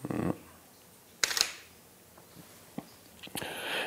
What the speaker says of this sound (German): Und wenn ich jetzt hier ein Foto mache